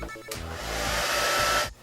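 A hair dryer whirs steadily for under two seconds after a brief click, then cuts off.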